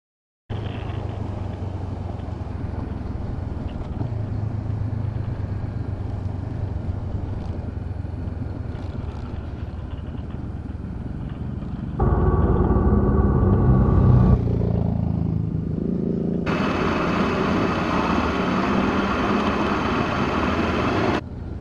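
Motorcycles riding along a dusty road on an adventure tour, including a CB500X and a KLR, give a continuous engine rumble with wind roar, rising louder and brighter in the second half as an engine revs up close.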